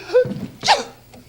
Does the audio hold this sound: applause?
no